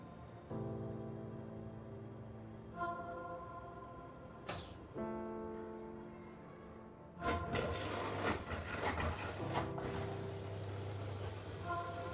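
A Samsung 8 kg top-load washing machine runs its quick wash program with a steady tonal hum and several clunks, then a louder churning rush of water and motor.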